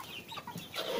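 Arab hens clucking close by, a few short soft clucks in quick succession, faint and alone.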